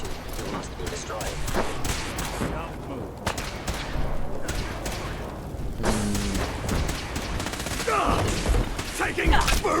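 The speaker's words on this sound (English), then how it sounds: "Shots coming from everywhere." Gunfire in Fallout 4: bursts of rapid shots and sharp cracks come from several directions, dense and close, mixed with clanking mechanisms and a robotic voice speaking over the fight.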